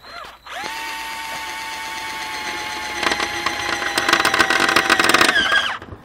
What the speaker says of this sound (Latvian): Urbjam šeit.